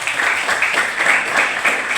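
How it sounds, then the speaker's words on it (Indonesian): Applause for a vice principal at a school outreach session, a loud, close, rhythmic clapping in a steady pulsing pattern from the gathered students. "Tepukan untuk Pak Zul."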